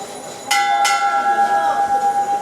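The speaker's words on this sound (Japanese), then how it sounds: "おお、鐘鳴らしてくれてます。" A bell rung at a place of prayer in Dhaka, Bangladesh: two clear metallic strikes close together with a long, ringing tone that hangs on and slowly fades, heard up close with no talking over it.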